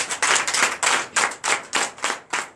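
A church congregation at a Sunday worship service in Comè, Benin, claps in quick, rhythmic bursts, with roughly ten sharp clap clusters in a few seconds that sound close, lively and free of speech.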